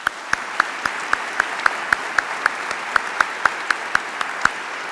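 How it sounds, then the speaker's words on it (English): An audience at the dedication of a performing arts center applauds in a steady wash, with one nearby pair of hands clapping sharply at an even, regular beat. "Let's just one more time applaud all these dedicated and committed dreamers and"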